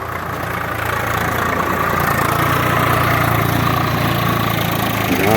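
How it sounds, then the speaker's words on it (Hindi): A tractor plowing a field with weeds and brush in the Jalalli area runs with a steady, loud, continuous engine drone that holds unchanged throughout, with no talking. "ट्रैक्टर सारा झाड़ पात भी निकाल देगा"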